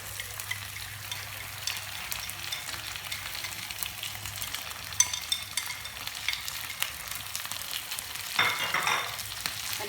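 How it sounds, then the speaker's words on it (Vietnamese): Peeled shrimp stir-fry with golden fried shallots in a pan over a wood fire. A soft, continuous sizzle runs throughout, with a louder swell of frying near the end. "Bắt đầu mình xào."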